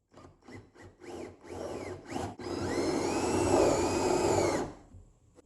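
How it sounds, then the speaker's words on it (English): A power drill countersinks screw holes, whirring steadily for a couple of seconds after a few short taps and bumps, close up, then cuts off. "I'm going to go ahead and countersink these as well."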